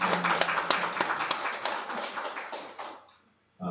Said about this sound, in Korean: 우리 박수 영광 돌리겠습니다.